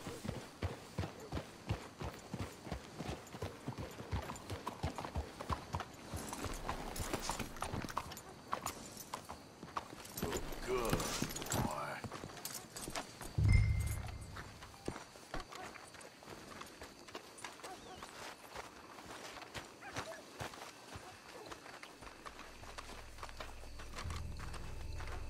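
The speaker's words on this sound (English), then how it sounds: "Let's hitch your horses up ahead." Horse hooves clip-clop steadily at walking pace, a continuous run of close, moderately quiet strikes with a brief louder thump midway.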